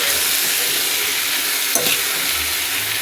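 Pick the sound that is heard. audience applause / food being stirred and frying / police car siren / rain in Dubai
food being stirred and frying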